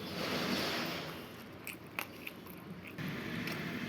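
Close, crunchy chewing of fried pointed gourd with a steady moist noise and a few sharper bites, no voices.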